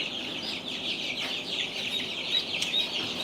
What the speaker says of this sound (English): We finally got us some little bitty ducks.